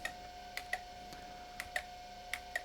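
Keys clack one after another on an IBM PS/2 keyboard during a switch test. Six or so sharp, distinct clicks come in loose pairs at close range over a faint hum.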